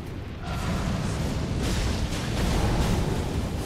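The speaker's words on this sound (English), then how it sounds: "That was an explosion." An explosion in the video game Elden Ring, a broad, rumbling roar of noise that swells in and holds at moderate loudness for several seconds, with no one talking.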